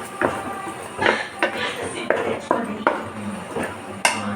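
A spoon stirs egg pulusu with brinjal and green chillies in a metal pan, producing a run of close, sharp clinks and scrapes at an uneven rhythm, each knock followed by a brief rattle.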